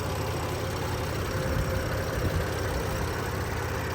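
A BMW M4 engine idles steadily with a low, constant rumble and no change in revs, heard close up with no talking over it.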